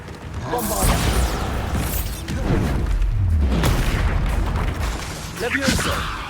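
Bombarda explosion spell cast in Hogwarts Legacy, several booming blasts and bursts spread over a few seconds, loud and close amid mechanical clatter, with a voice speaking over the effects.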